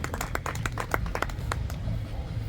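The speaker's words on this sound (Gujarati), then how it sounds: "રાજવીરજી ઓડેદરા લોક સાહિત્યકાર ધ ભગત, તાળીઓના ગડગડાટથી વધાવજો." An audience claps to welcome the folk artist Rajvirji Odedara at an influencer meetup: a short burst of brisk, uneven hand claps from a modest crowd that thins out toward the end.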